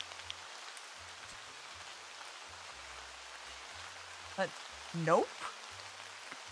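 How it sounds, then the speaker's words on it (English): Steady broadband hiss of rain falling in the farming video game Harvest Days, loud and continuous throughout, with a brief spoken word and a few short vocal sounds near the end. "This rain sound is also loud as hell."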